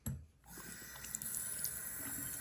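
Water runs from a bathroom sink faucet, a steady hissing flow starting after a short thump and continuing close and even to the end.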